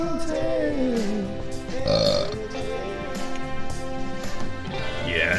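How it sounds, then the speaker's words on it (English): Loud, drawn-out burping, several deep croaking belches in a row, close up and dominating, with a bit of voice between them. "Burping all day long."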